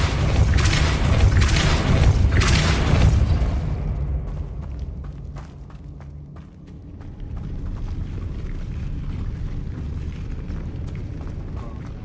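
A Depulso force-push spell cast in Hogwarts Legacy lands as heavy booming blasts for the first few seconds, then settles into a lower, lingering rumble with faint clicks through the rest.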